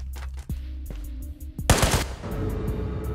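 Gunfire in the Ghosts of Tabor VR shooter, a Golden SKS among the weapons: sharp single shots early, then a loud burst of close gunfire in the middle followed by a sustained noisy rumble.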